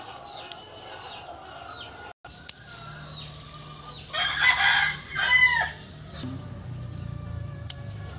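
Chickens crow and cluck around a rural yard, a couple of louder crowing bursts rising over scattered clucks and faint background sounds, with no voices.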